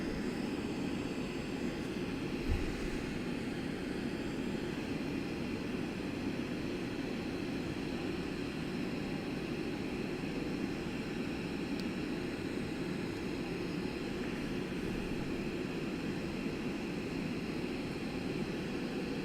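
Airliner on its takeoff roll, a steady broad engine roar held at an even level throughout, distant and muffled with no clear rise, heard alone without voices.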